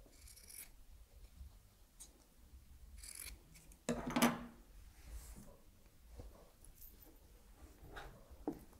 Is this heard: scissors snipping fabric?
yes